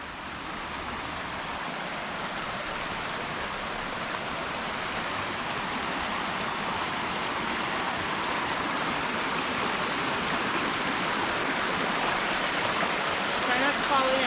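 A small creek along a trail in Glacier National Park flows with a steady, even rushing wash of water, close by and unbroken, with no voices over it.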